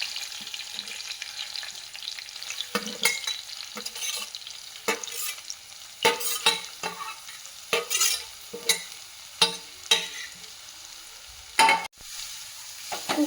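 Grated carrot sautés in melted ghee, a soft sizzle broken by a series of sharp scraping stirs of the spoon against the pan, close up and with no one speaking.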